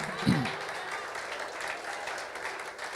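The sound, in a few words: church congregation applauding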